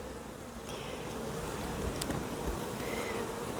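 Honeybees swarm around an open hive, their steady buzzing drone close and continuous throughout, with no voices.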